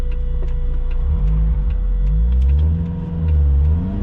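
Modified old VW Polo bread van, driven around a corner in second gear: its engine drones loud and close, the pitch sliding up and down with the revs, with no talk.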